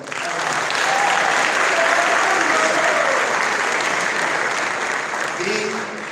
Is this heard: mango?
no